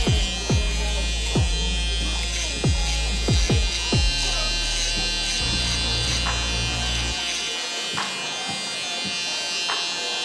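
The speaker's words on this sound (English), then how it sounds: "Now we'll follow it up with the shaver to get it nice and close to the skin." An electric shaver buzzes close by during a haircut, with repeated rising whirs as it moves over skin before settling into a steady, quieter hum.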